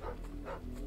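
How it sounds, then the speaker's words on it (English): A dog barks in the video game Final Fantasy 16, with two short, close woofs in quick succession over a low game ambience. "What you barking at, dog?"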